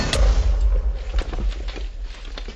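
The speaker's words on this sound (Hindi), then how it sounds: "क्या धमाका हुआ यहाँ पे" A Minecraft explosion booms with a deep low thump at the start, followed by scattered crackling pops and rumble that fade over a couple of seconds, with no talking.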